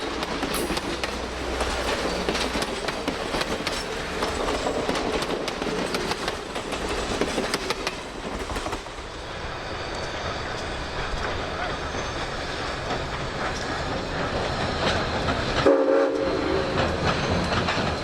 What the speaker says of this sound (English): The train is now crossing the bridge over the Chattooga River